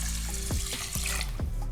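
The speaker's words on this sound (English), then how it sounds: "So 2 cups of rice, I'm gonna add 2 1/2 cups of cold water." Cold water poured into a pot of rice in a home kitchen, a steady close splashing stream with a few gurgling glugs, moderately loud and continuous, no voices.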